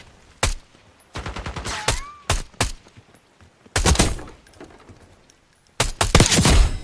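Bursts of gunfire in an online multiplayer shooter game: several sharp volleys and rapid-fire strings spaced across the clip, loud and close, separated by quieter gaps with faint game ambience.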